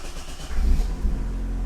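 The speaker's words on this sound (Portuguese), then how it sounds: "Eu vou desligar o motor e vou ligar de novo para vocês verem como a rotação do motor mudou" A car engine fitted with programmable fuel injection restarts and settles into a low, steady idle rumble, brief and fairly loud.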